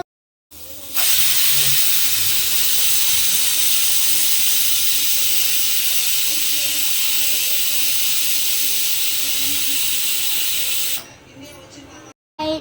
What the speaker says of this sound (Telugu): 10 విజిల్స్ వచ్చేంత వరకు ఉడకబెట్టాము.